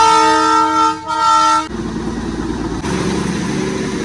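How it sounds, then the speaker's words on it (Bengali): A diesel engine pulls the Darjeeling toy train in, sounding loud, sustained horn blasts that stop and give way to a steady, close rumble of engine and rolling wagons. "এই ঢুকছি, আর এই হচ্ছে ট্রেন।"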